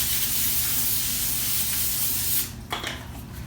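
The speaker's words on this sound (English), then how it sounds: "You should spray it down with some olive oil." Olive oil sprayed from a can onto a baking sheet in a kitchen: a steady, close hissing spray lasting about two and a half seconds, then cutting off, followed by a couple of short faint sputters.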